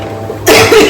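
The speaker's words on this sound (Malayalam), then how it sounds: "excuse me, ചുമയാട്ടോ" A single sharp, loud cough bursts out close by after a brief quiet moment in a home kitchen.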